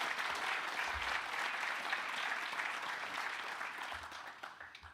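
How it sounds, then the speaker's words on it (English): An audience at a Purdue Crew 75th anniversary celebration claps in a dense, even wash of applause that carries on steadily and eases slightly toward the end. "one more round of applause for Alan"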